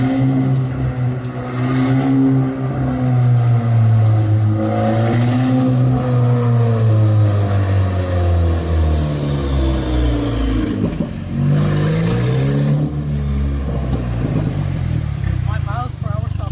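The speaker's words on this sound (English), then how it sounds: "Main thing is done. Car is running now." An Audi A4 project car that sat parked for five years runs with its engine idling and rising into revs, a steady close rumble with shifting pitch throughout, while voices talk over it.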